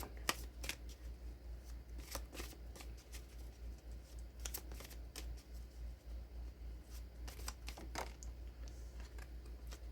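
Tarot cards shuffled by hand in close, rapid riffling bursts with brief pauses between them, soft and crisp against a quiet background, no one speaking.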